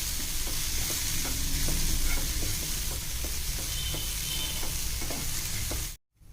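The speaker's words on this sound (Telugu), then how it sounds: "ఇప్పుడు అన్నీ కలిసేట్టుగా బాగా కలుపుకోవాలి." Chilli-spiced fresh coconut curry with moong dal fries in a pan with a loud, continuous sizzle. A spatula scrapes in a quick, regular rhythm until the sound cuts off abruptly near the end, with no speech.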